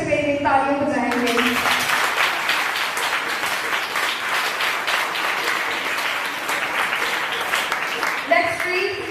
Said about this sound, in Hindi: आइए हम परमेश्वर पे तालियां बजाएंगे।